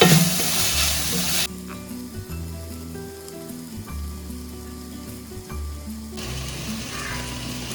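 Onions fry in a pan for potato masala, giving a steady, close sizzle with a bright crackle at the start and end and a low mechanical drone through the middle, no one speaking.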